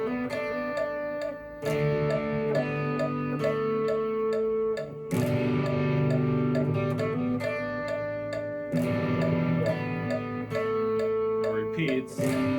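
Electric guitar with a crunchy, lightly distorted tone strumming the chorus chords of the worship song Worthy, steady rhythmic strums with a few chord changes and brief pauses, heard alone and fairly quiet.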